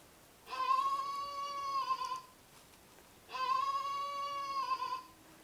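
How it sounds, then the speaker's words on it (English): Goats bleat twice, each call long, wavering and nasal and lasting over a second, with a pause between. The calls stand out clearly over a faint background hiss. "Now you can hear the bleating sounds."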